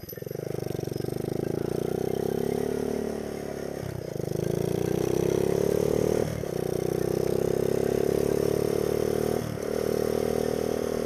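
A Honda Z50 minibike rides along in top gear, its small engine droning steadily at close range with brief dips as the throttle eases off every few seconds.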